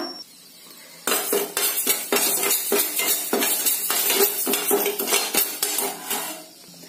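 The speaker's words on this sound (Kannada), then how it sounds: "ಆ ಪಾನ್ಗೆ ಈ ಅಕ್ಕಿನ ಹಾಕೊಂಡಿದ್ದೀನಿ. ಚೆನ್ನಾಗಿ ಫ್ರೈ ಮಾಡ್ಕೊಳ್ಳೋಣ." Raw rice being dry-roasted in a pan for sambar, stirred hard so a spoon scrapes and clatters against the metal in a quick, continuous rhythm, loud and close, with no talk.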